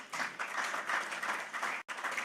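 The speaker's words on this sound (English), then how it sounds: "please, a round of applause for that" An audience at a corporate launch event for an insurance company's mobile app gives a round of applause. Many hands clap steadily at a moderate distance, with a brief cut near the end.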